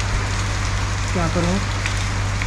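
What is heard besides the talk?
continuous heavy rain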